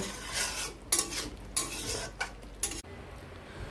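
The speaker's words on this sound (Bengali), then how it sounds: "এইটা হয়ে গেছে কি না একটু নেড়ে দিই" Ridge gourd and potato curry stirred in a pan, with several bursts of spatula scraping over a quiet sizzle, the cooking sound cutting off abruptly near the end.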